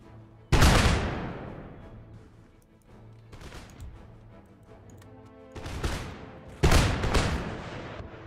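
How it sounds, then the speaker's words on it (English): Point-blank musket volleys in Empire Total War crack out in three heavy rolling bursts, the first and last loudest, each trailing off into a long decaying rumble with faint battlefield noise between. "training musketry at point blank range"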